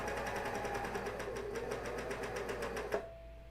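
A coverstitch machine set to narrow stitches underwear fabric, a fast even mechanical patter for about three seconds that ends with a small clunk as it stops.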